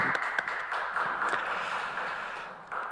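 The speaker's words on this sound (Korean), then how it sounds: "하나님께 영광의 박수 하겠습니다." Applause from a congregation during a Korean Sunday church service broadcast online: a soft, diffuse patter of clapping that fades out over about three seconds, sounding somewhat distant.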